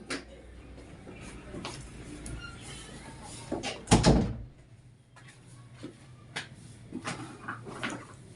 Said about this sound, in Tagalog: May kumatok.